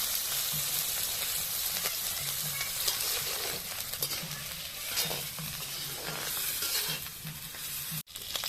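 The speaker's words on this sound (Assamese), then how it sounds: "মাছখিনি প্ৰথমতে ভাজি ল'ব হয় নাই" Pieces of Bombay duck (bomla fish) fry in oil in a wok with a steady, close crackling sizzle and occasional stirring scrapes throughout.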